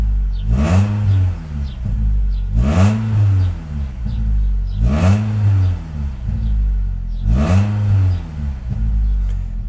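A car with an aftermarket exhaust and no catalytic converter revs four times in a steady rhythm, each blip rising to a deep, throaty burble through the loud exhaust before settling back to idle.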